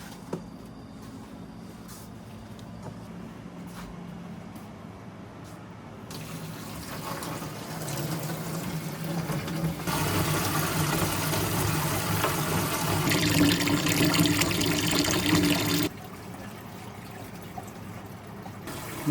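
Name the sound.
water rinsing freshly caught Etsu fish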